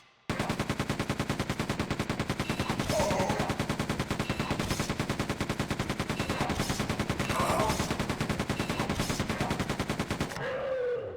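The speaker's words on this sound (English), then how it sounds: "I want to shoot this guy first" Rapid automatic gunfire in the video game Rapture, a loud, continuous burst of evenly spaced shots running almost unbroken for over ten seconds, with a couple of heavier impacts mixed in and no voices.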